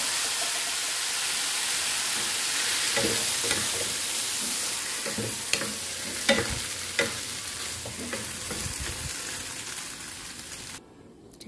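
Boiled mung beans tip into a hot pan and are stirred, bringing a loud steady sizzle and hiss with scraping stirs and clacks in the middle before the sound drops off at the end.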